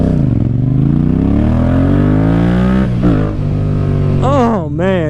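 A Yamaha MT-07 motorcycle engine revs loud and close, its pitch climbing smoothly over a throaty idle, then a couple of sharp throttle blips rise and fall near the end.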